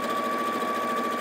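An Elna 780+ sewing machine stitching lines across a cushion cover, running at a steady fast hum, close and even throughout.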